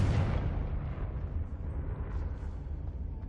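A Confringo fire spell bursts in Hogwarts Legacy, a dense rumbling blast that starts loud and decays into a long roaring tail.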